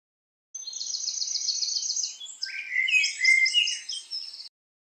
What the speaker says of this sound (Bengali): ওই তো একটা পাখি গাছের নিচে ফল খাচ্ছে